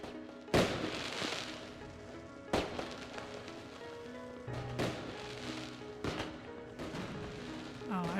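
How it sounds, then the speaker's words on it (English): Fireworks burst in the video game Surviving Mars: Relaunched, a series of sharp explosive cracks every second or two, each followed by a crackling fizzle, with a bit of talking in between. "Independence! Fireworks!"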